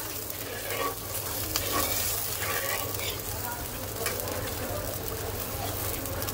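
Hilsa fish curry with potato and eggplant being stirred in a pan, with a soft continuous sizzle and scraping of the spoon close by, quiet and without talk.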